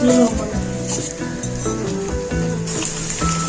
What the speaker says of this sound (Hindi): सारा प्याज हम अच्छे से इसमें कट करके डाल देंगे।